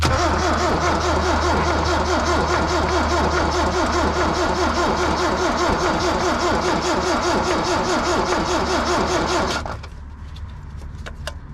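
A 1972 Toyota Celica engine being started with a hand choke on a cold 27-degree day, a loud, steady running roar with rapid firing pulses that holds for about ten seconds, then cuts to a much quieter level.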